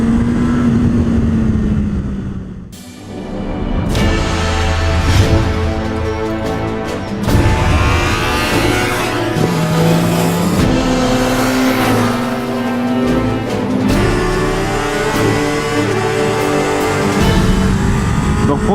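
A Honda car on a race track roars loud and close, its engine pitch climbing hard under acceleration and then falling away as it brakes, rising again in sustained waves.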